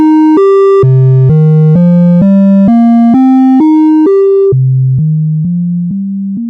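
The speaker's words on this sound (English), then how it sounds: "Let's turn up the sine wave." A pure synthesizer sine oscillator plays a clean stepped sequence of sustained tones, each pitch holding briefly before jumping to the next, loud and alone, fading slightly toward the end.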